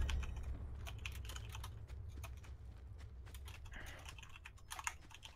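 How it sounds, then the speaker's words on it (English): Rapid computer keyboard typing picked up by a voice-chat microphone during an online game clicks away continuously over a low background hum, fairly quiet and close. "is that you typing? Can you please mute your mic for a second?"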